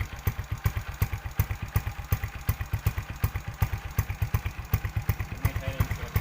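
A motorcycle with its exhaust silencer fitted idles at stock sound level, close and steady, with a regular throbbing pulse that keeps an even rhythm throughout and no voices over it.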